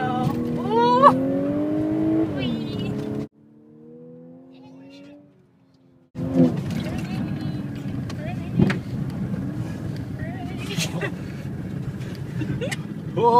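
Audi cars driving on a frozen lake in Sweden, engine noise and road rumble under people talking inside the car, with a brief quieter stretch mid-way before the driving sound returns loud.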